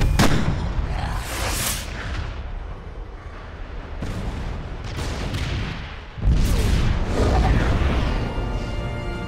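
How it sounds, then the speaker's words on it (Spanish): Projectile fired after a countdown in a Spider-Man action film, delivered as heavy booming blasts and rumbling roars, loud and close, with a renewed surge of thunderous sound near the end. "Proyectil disparado."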